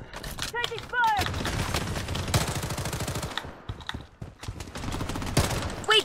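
Dense gunfire rattles through a Blood Strike match: rapid automatic bursts and overlapping shots keep going almost nonstop, loud and close, with a short lull partway through before the firing picks up again.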